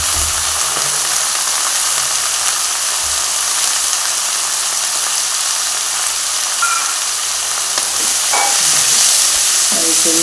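Coconut oil sizzles and crackles steadily as prawns fry in a pan, a constant close frying hiss with a few small clinks and stirring sounds near the end.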